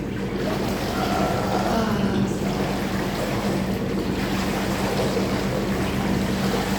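Warm jacuzzi water bubbles in a steady, even churn, a continuous close rush of foamy water with no pauses.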